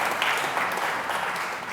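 A crowd at the Lichfield Live Community Awards claps in steady, dense applause throughout.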